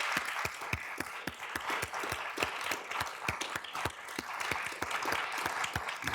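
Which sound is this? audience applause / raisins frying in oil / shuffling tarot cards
audience applause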